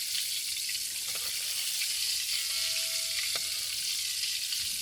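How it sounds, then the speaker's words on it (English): Chinese sausage and shrimp rolls deep frying in hot oil, a dense, steady sizzle and crackle that runs continuously throughout with no voices. "I'm going to deep fry it until they turn a golden brown"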